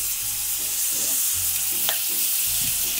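Pork loin and onions fry in olive oil in a pan, giving a steady close sizzle with intermittent stirring scrapes and clatter, no talking.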